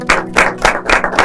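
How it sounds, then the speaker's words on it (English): Five or six sharp, rhythmic hand claps ring out close and loud from an audience applauding prize winners, a brief burst with nothing else around it. "I think that deserves a round of applause."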